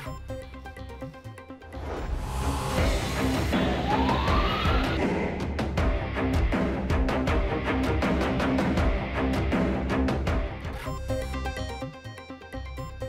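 An emergency vehicle siren wails on a Lahore road, rising over steady traffic noise for several seconds before fading, heard from a moderate distance.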